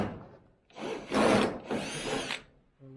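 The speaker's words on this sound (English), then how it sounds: "first thing I gotta do is take some of these" A power drill backs screws out of the roof of a deer feeder, giving a couple of close, gritty whirring bursts with a short break between them.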